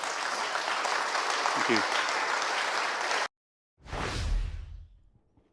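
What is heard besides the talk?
crowd applauding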